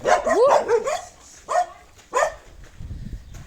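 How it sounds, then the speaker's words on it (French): Four dogs chasing a person outdoors in the mountains bark in a burst of overlapping yips, then give two more single barks, close and loud, followed by rustling movement. "Est-ce qu'il y a 4 chiens qui sont venus courir après moi?"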